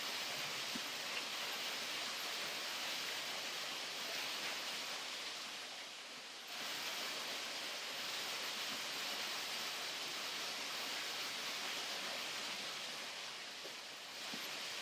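A river flows steadily in Bali, a continuous broadband rush of water, soft and even, with no voices and only a brief dip in the middle.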